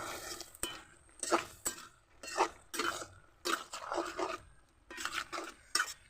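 Water lily stems and tilapia being stirred together in a cooking pan: a spatula scrapes and clinks against the metal in a steady run of strokes, close and fairly quiet, with no talking.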